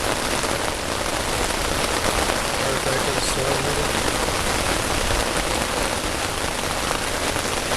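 Heavy rain pounds steadily on an REI Quarterdome backpacking tent, a dense, loud, unbroken hiss and patter heard from inside, with no break across the whole stretch.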